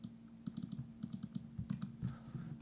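Typing on a computer keyboard to enter a Google search for a Yamaha PSR keyboard: a quick run of close, soft keystrokes in irregular bursts over a low steady hum.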